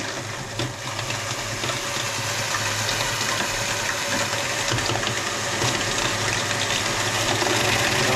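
Water rushes steadily from a micro hydro nozzle on a Pelton setup at about 44 pressure, a dense continuous close roar with rattling texture and no talking.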